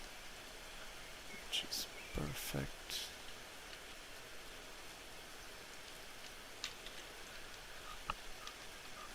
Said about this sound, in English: Okay, now there's rain,